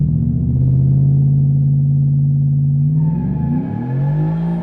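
A pickup truck with a modified 5.3 engine accelerating hard, its engine droning loud and close at a steady pitch before a gear change drops it and the revs climb again.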